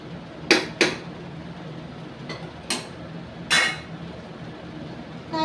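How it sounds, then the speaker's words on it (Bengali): Meat being sautéed in a pot, with a handful of metallic clanks and scrapes from a utensil against the pot at irregular intervals over a faint, steady background hiss. "মাংসটাকে ভালো করে কষাতে হবে।"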